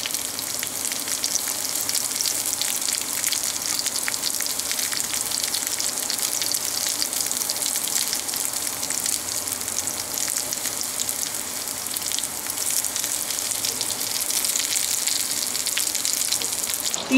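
Purple shrimp fry in a hot pan with a steady, dense sizzle that holds loud and even from start to finish, with no voices over it.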